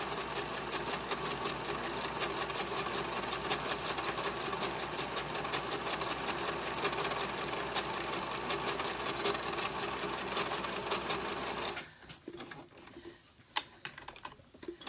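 A vintage Janome New Home DX 2015 sewing machine runs at low speed with a steady, dense mechanical whir and clatter, loud and close, then stops, leaving a few faint clicks and handling noises.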